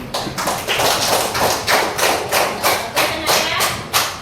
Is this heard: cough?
no